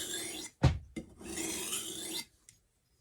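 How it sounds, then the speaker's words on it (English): A knife blade drags across a 1000 grit whetstone in a few close, rasping strokes, with a short sharp scrape followed by a longer even grind, then silence. "So now we're on the 1000 grit stone, right? So you're getting it really fine."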